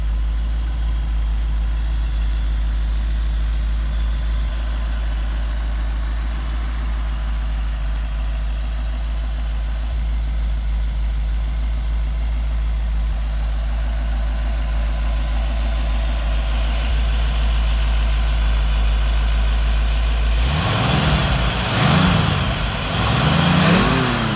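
Small block Chevy V8 in a Model A Ford hotrod chassis idles with a steady, loud low rumble for about twenty seconds, then revs in several rising and falling bursts near the end.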